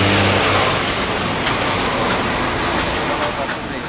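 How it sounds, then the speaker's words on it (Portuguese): A truck passes close by on a road, its broad engine and tire rumble steady for several seconds, with a faint low hum at the start and a brief hiss near the middle. "passando o caminhão aqui"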